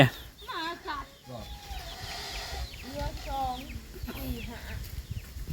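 Ducks on a farm call repeatedly in short, harmonic bursts, close by, with overlapping calls from several birds.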